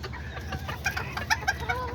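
Close by, a small rooster of the Serama or Aztec type gives a run of short, sharp clucks in an uneven rhythm over a low background hum.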